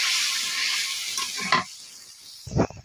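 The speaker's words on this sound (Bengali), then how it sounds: "এবার আমি মশলাটাকে আরও 2 মিনিটের মতো ভালো করে কষিয়ে নেব।" Masala paste loosened with a little water stir-fried in a pan for a Bengal-style snakehead fish and bottle gourd curry, a steady sizzle with spoon scrapes and a louder clatter near the end, no voices.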